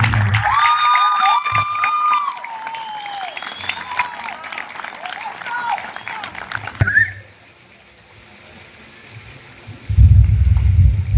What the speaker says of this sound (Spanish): Y un aplauso a todos los presentes.